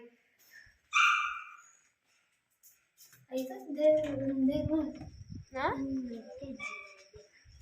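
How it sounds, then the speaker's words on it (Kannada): A pet dog lets out a high yelping whimper, then after a pause gives short barks and whines close by while people talk around it. "ನಮ್ಮ ನಾಯಿ"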